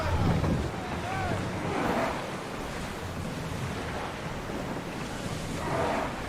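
A ship sets sail on open sea in Assassin's Creed Odyssey, with a steady wash of waves and wind rushing around the hull, swelling gently at times, with voices faintly underneath.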